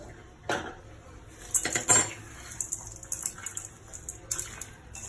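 A spoon scraping and clinking against a pot while rice is stirred together with tempering for Andhra mango pulihora, giving irregular metallic taps and scrapes, with a few louder clanks in the middle and quieter stirring between.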